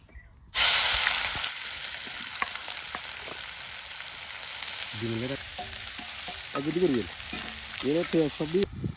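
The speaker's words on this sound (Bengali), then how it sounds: "আর পেঁয়াজ পেঁয়াজ সব এখানে তেলে দেওয়া হবে না? হ্যাঁ হ্যাঁ, তেলের উপর এখন আমি এটাকে ভাজবো।" Onions hit hot oil outdoors with a sudden loud sizzle that settles into a steady frying hiss, while a voice is heard over it in the second half.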